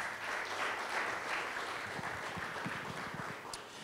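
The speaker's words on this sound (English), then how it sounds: "I need a round of applause for that one." A room of listeners at a panel conversation on arts and culture claps steadily for a few seconds, a dense even wash of applause that slackens slightly near the end.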